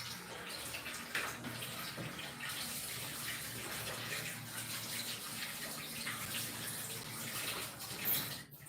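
Tap water runs steadily into a mixing bowl left soaking in a kitchen sink after making banana bread, a continuous close splashing rush with no talking.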